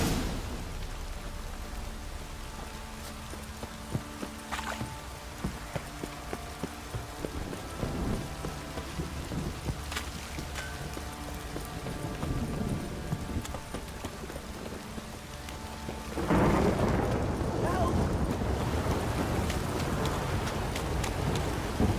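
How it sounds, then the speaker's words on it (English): Steady downpour in The Witcher 3 with horse hooves clip-clopping through it, irregular thuds and creaks scattered over the rain, which swells noticeably louder and fuller in the last few seconds. "This downpour's a bastard, it is."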